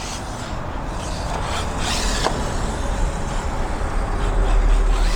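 An ARRMA Mini Kraton RC truck on a 3S battery pack runs at full throttle, a steady, loud broadband whir and rasp that builds slightly toward the end, with no talking.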